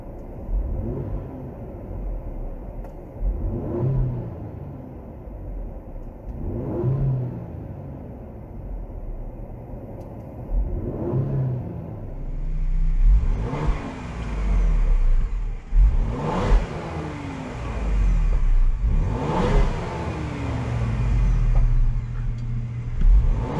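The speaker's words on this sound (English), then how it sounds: "So let's see what we got here, just sitting here, and we'll give it some revs" A 2020 Ford Explorer ST, parked in sport mode, is revved repeatedly in a series of rising and falling engine surges toward about 4,000 RPM. The pulls are spaced a few seconds apart and grow louder and busier in the second half.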